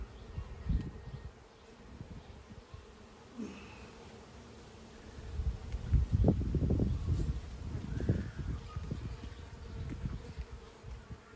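Honeybees buzz around an open beehive, a low, shifting drone that swells and fades as insects pass close, with some rustling from the hive and no talk.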